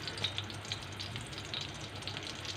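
Fish shami kababs frying on a griddle, a continuous close sizzle with soft crackles and a low hum underneath, no talking.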